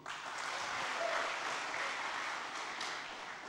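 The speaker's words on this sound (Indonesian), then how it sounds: "Tepuk tangan untuk Polri" A stand-up comedy audience breaks into applause for the police, a broad, even wash of clapping from many hands that holds steady for a few seconds, soft and distant.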